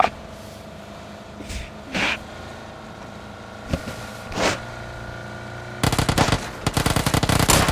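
Distant PUBG gunshots pop sporadically over a low background hum, then a loud rapid burst of automatic fire rattles near the end.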